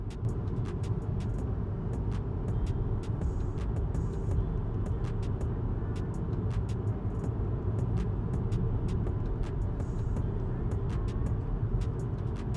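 Inside the cabin of a Leopard 8 hybrid SUV with a 2-liter turbo generator while driving, a low, steady road and engine hum stays muted and even, with faint ticks above it.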